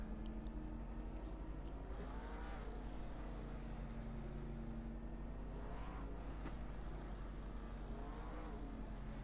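Steady engine drone from a pack of 1987 Monte Carlo NASCAR stock cars running slow pace laps at Dover in a racing video game, with gentle rises and falls in pitch and no talk.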